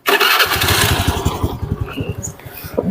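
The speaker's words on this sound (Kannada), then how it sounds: "ಹೌದು, ಅಣ್ಣ ಅವ್ರ ಬೈಕ್ ಎತ್ಕೊಂಡ್ಬಂದವ್ರೆ." Motorcycle engine kicks into life with a sharp burst, then settles into a rapid, uneven idle chug heard up close, with no talking.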